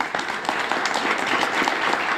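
Brief applause from an audience welcoming recognized representatives, a soft, even patter of many hands clapping at moderate distance without a clear start or finish.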